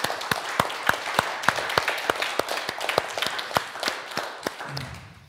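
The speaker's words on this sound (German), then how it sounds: "Das war ein Applaus wert, glaube ich." Audience applause inside the old synagogue in Erfurt after a speech, sparse, distinct claps in a steady rhythm from a modest crowd, thinning out toward the end.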